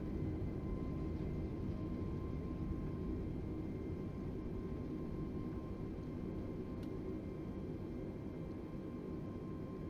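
Sustained jet roar of an airliner's thrust reversers after touchdown in Microsoft Flight Simulator 2020, a steady broadband rumble and whoosh holding at even loudness throughout with a faint tonal whine above.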